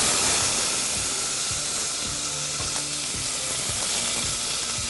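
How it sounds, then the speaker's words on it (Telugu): Tomato pieces drop into a hot pan of capsicum sambar and sizzle loudly, a dense, steady frying hiss with faint stirring knocks underneath. "డైరెక్ట్ టమాటో ముక్కలు వేసేసుకుందాం."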